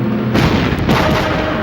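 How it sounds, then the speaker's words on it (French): A loud, booming burst of fireworks fills the clip, with dense crackling and rumbling that sounds close and intense. "Des feux d'artifice?"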